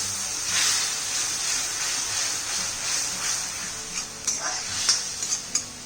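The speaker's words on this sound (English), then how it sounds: "Allow this to bubble, sizzle on high flame." Sauce of soy sauce and about a quarter cup of water bubbling and sizzling over a high flame, a steady hiss with a few clinks and scrapes of a utensil against the pan near the end.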